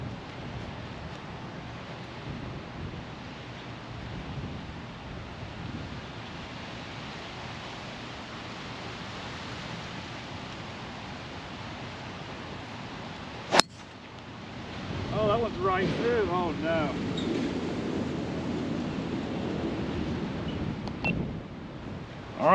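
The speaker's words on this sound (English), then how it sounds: "Wind is coming off the left now, so we made a little turn, wind's off the left." Wind sweeps across the Marsh Landing Country Club golf course as a steady, broad rushing hiss. A single sharp crack cuts through midway, followed by a louder, gustier stretch with voices talking.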